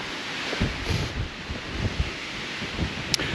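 Gusty wind blows through a dry forest near Princetown on Dartmoor, a steady broadband rush with rustling surges and buffeting against the microphone, no voices.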